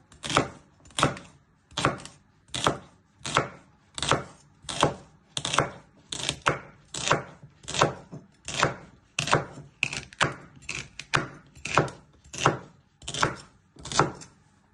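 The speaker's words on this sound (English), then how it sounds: "And then you're just going to finely slice them." A knife finely slices two trimmed celery sticks on a cutting board, about twenty crisp, evenly spaced chops in a steady rhythm, close and clear with no talking.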